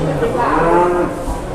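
A large jumbo cow moos loudly and close by at a busy Boyolali cattle market, one long sustained low call filling the moment.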